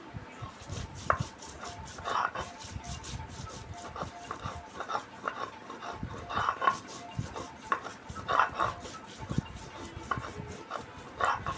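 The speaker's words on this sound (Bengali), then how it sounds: "এই যে ধনেটা শুধু বাটছি" Coriander being ground into a spice paste alongside ginger and garlic, a close, rhythmic run of repeated scraping and knocking strokes that keeps going throughout.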